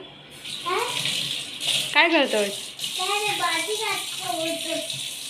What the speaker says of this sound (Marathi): भांडी घासतोयस तू